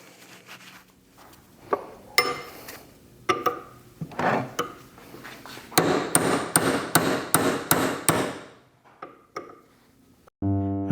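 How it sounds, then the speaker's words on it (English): A brass punch is hammered against a Toyota 100 Series Land Cruiser upper trailing arm bushing, giving loud, sharp metallic blows, first in scattered strikes, then a rapid evenly spaced series of ringing hits, close and alone. "use a brass punch to hammer it down through. It's very loud and very destructive and noisy"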